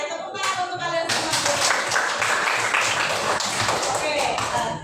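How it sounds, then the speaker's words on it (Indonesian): Audience applause from a classroom or training group, a dense burst of clapping that swells in after a brief lead-in and continues steadily and loudly to the end. "Oke, tepuk tangan untuk kalian semua"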